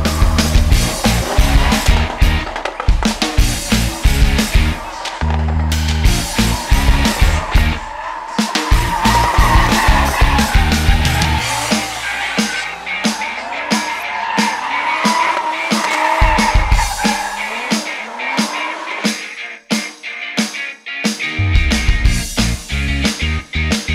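Modified Nissan Silvia drift car with an American engine of about 600 horsepower at the 2022 Kirkuk Drift Show, revving hard with screeching tire squeal and engine roars rising and falling, loud and close.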